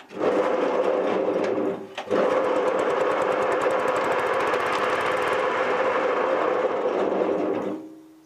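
A gasoline-engined W W grinder running steadily at close range, a loud buzzing rattle that dips briefly near the start, then holds an even drone before cutting off at the end.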